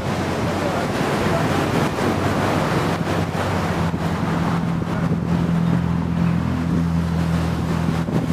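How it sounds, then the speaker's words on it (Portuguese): Waves and wind at Boa Viagem beach at dusk form a continuous, loud broadband roar of surf with gusty wind buffeting the microphone and a low rumble underneath throughout. "E aí a praia no fim de tarde, início de noite."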